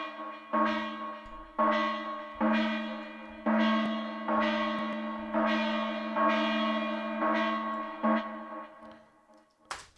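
Bell-like synthesizer notes with long reverb tails, struck about every second in a slow, steady series, each decaying into the next, with no voices.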